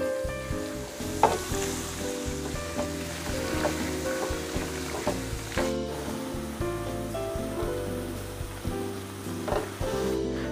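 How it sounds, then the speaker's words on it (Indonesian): Empal spice paste fries in a pan over low heat, a steady close sizzle with occasional stirring scrapes and clicks throughout, no voices. "Berikutnya saya goreng ya bumbu empalnya."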